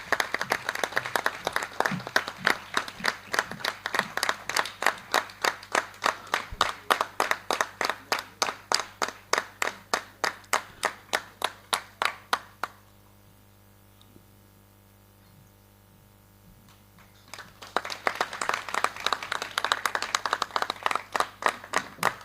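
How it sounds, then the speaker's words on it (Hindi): An audience at a theatre show in Delhi claps in a rhythmic unison beat to welcome a guest on stage. The clapping stops for about five seconds of near silence, then resumes. "जोरदार तालियों से उनका स्वागत करें।"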